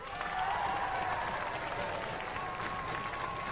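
Audience applause at a Robot Wars robot combat event, a dense steady wash of crowd clapping and cheering filling the whole stretch at even loudness.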